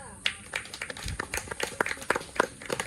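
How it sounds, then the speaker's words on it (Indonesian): A classroom group claps for group three, a brief burst of scattered hand claps at close range over about three seconds, with a voice speaking alongside. "Oke, beri aplaus untuk kelompok 3."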